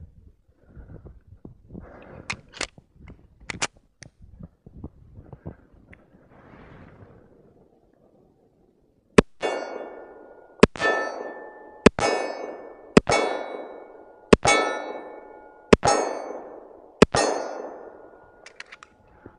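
Springfield 1911 TRP .45 pistol fired at steel targets, seven sharp shots spaced about a second apart, each followed by a bright ringing clang of the steel, after quieter shuffling and handling noises.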